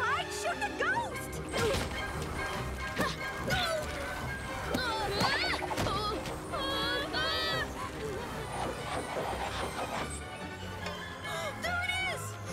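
Books hurled by a ghost in a cartoon crash and thud repeatedly, with sharp hits scattered through a busy mix of music and characters talking.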